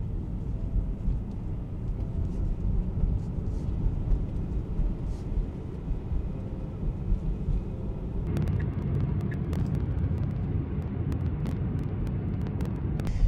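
A car drives along Rideau Street in downtown Ottawa, giving a steady low road rumble with passing traffic noise. Some brief, sharper sounds come in over the last few seconds.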